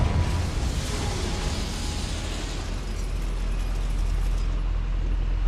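A Confringo fire spell blasts in Hogwarts Legacy, a loud rumbling explosion that swells and sustains for several seconds with no voices over it.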